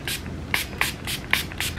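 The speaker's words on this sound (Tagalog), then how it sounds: "Nakakatuwa kasi jelly siya, pero spray." A jelly serum mist sleeping pack is sprayed in four or five short, sharp hissing puffs spaced roughly evenly apart, close and fairly loud over a quiet room.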